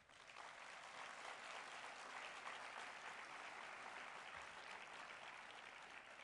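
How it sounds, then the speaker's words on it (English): An audience at an F1 in Schools awards ceremony applauds, with dense, even clapping that holds steady for several seconds and fills the room, with no voices above it. "So if you could give you all a round of applause"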